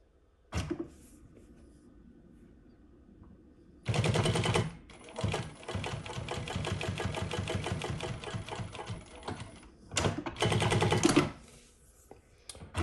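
A Prosew PS-1933B industrial sewing machine stitches with back tacks and no thread nipper, running in rapid mechanical bursts: a brief start, a long steady run, then a shorter burst, close and clear.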